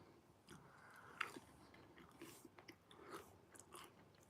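A person bites and chews a hot dish topped with shaved broccoli, giving faint, close crunches and soft mouth sounds in a quiet room, with no speech.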